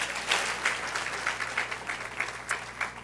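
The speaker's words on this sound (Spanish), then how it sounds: "Dale un aplauso al Señor." A church congregation applauds for the Lord in a steady, dense wash of clapping, close and sustained throughout with small swells.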